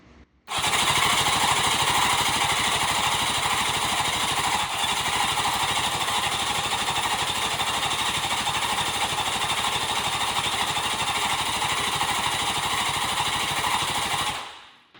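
Street bike engine swapped into a lawn mower being cranked over on the starter, a steady loud rhythmic churning that runs continuously for about fourteen seconds without catching, then stops; no voices.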